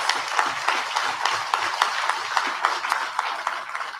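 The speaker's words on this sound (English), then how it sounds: "Can I ask you to give a special round of applause?" Audience clapping at a political party special convention in a town square, a dense flurry of hand claps with sharp individual claps standing out, moderately close and steady, with no talking over it.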